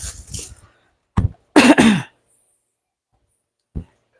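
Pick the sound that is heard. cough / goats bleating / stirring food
cough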